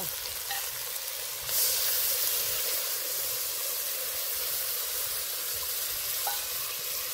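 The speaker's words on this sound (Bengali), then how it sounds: "এবার দিয়ে দেব জিরে বাটা, শুকনো লঙ্কা বাটা, মশলা ধোয়া জল দিয়ে দেব" Water used to rinse the spice grinder hisses into a hot pan of frying cumin paste and dried red chili paste with ginger and garlic, for a ritha fish curry. A steady sizzle flares louder partway through and stays close and even.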